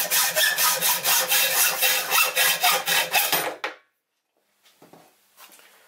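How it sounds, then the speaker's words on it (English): Hand saw cutting through a mild steel bar, about fourteen steady rhythmic back-and-forth rasping strokes, loud and close, then stopping abruptly followed by faint handling noises. "So I'm just going to cut a piece off this mild steel bar, slightly longer than 40mm."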